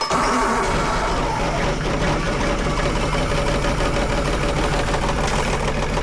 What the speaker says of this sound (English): I love the way these little Yanmar gassers run.